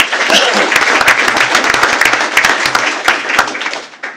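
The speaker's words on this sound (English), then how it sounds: "Let's give Miss Bobby Princell a big round of applause." Audience at a school board of trustees meeting bursts into steady, dense applause for a departing teacher, individual claps distinct and close, easing off near the end.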